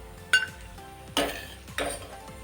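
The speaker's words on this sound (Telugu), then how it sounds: "ఇప్పుడు వీటిని ఒక బౌల్లోకి కానీ ఒక ప్లేట్లోకి కానీ సపరేట్గా తీసేసుకోండి" Fried cashews and almonds are scooped out of a pan into a bowl in a home kitchen, giving three sharp metallic scrapes and clinks of a spoon against cookware, each with a short ring, amid a quiet background.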